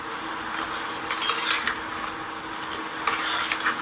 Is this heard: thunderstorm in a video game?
no